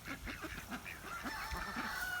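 A small flock of farm geese ranging outdoors in the rain gives a quick series of faint, distant honks that overlap one another in a short burst.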